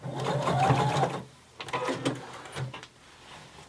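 Sewing machine stitching denim, a fast whirring run of stitches for about a second, followed by shorter bursts and stops with faint handling noise.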